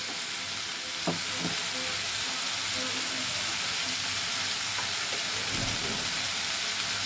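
Mango pickle oil sprinkled over cooked fenugreek greens in the pan, a continuous dense sizzle like light rain with a few soft clinks and scrapes under it.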